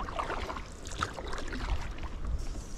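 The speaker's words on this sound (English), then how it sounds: "anywhere near this outboard with the outboard running" A small Chinese outboard motor running on a canoe out on the water, a steady low drone mixed with water and wind noise throughout, close by and with no talking.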